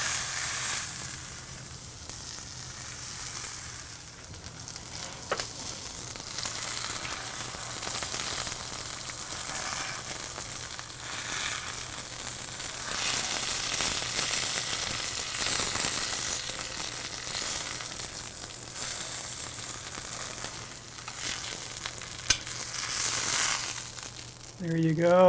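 A ribeye steak sears in a pan with toasted Szechuan peppers and garlic, giving a steady, close, hissing sizzle that runs throughout with occasional crackles and faint scraping.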